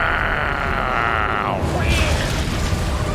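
A nuke detonation in StarCraft II, a deep booming rumble with a descending whine that sweeps down into the blast before a sustained roar, under a caster's voice talking over it.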